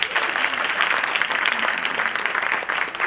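Sustained, dense applause fills a summit hall as a crowd claps steadily and evenly throughout, loud and close with no talk over it.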